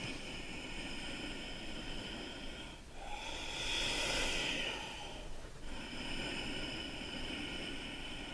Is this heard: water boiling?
no